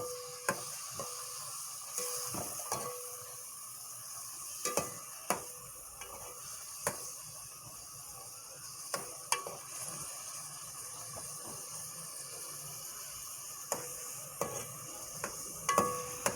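Chicken frying in ghee with cloves, black cardamom and cinnamon gives a faint, constant sizzle, punctuated by scattered sharp ticks and taps of a spoon against the pot.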